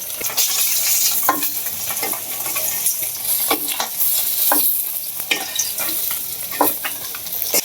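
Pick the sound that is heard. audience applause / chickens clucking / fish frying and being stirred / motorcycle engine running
fish frying and being stirred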